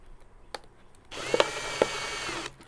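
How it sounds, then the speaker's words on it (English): A power drill bores holes into the bottom of a plastic half-gallon milk jug being made into a quail and chick feeder, a steady close whine lasting over a second with a couple of sharp catches as the bit bites through. "I drill my holes down here in the bottom."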